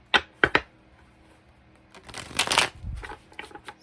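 A tarot card deck being shuffled close up: two quick riffles, then a longer rustling burst of cards sliding together, with soft handling clicks at the end.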